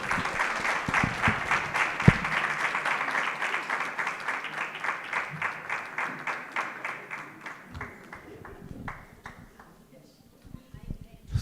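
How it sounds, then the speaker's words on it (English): Audience at a campus student council inauguration ceremony clapping for the president, dense applause that settles into rhythmic unison clapping, slowly fading in loudness before dying away near the end. "One last round of applause, please, for the President, guys."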